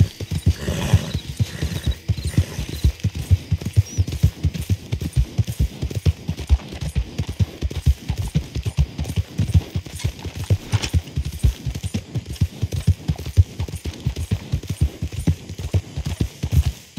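Horse hooves clip-clopping steadily while riding through horse country, a continuous close, loud rhythmic clatter of footfalls with an occasional whinny, and no talk over it.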